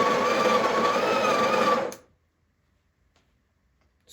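A Breville Barista Pro BES878 espresso machine's built-in grinder runs on coffee beans at a middle grind setting, a loud steady whirring drone that cuts off abruptly after about two seconds, leaving near silence.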